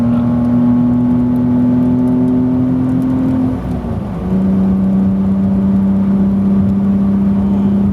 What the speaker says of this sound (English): I'm gonna give it some gas and try to take some turns